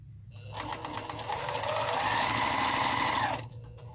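A sewing machine stitches a seam 1.5 inches along fabric, starting after a brief pause and then running steadily and loudly in a fast, continuous whir for about three seconds before stopping.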